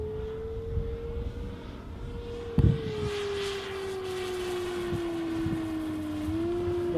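A Top Flite P-47D Thunderbolt RC model plane flies overhead, its engine a steady, moderately distant drone that slowly shifts in pitch, with a brief bump of handling noise and no talking.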